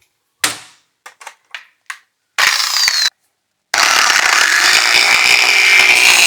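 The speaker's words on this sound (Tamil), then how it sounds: "ஓகே, நெக்ஸ்ட்டு ட்ரில் பண்ணிடுவோம்." A power drill bores into a wall, with a few short clicks and knocks first, then a steady loud whine in two bursts, the second lasting several seconds, close by and without talk.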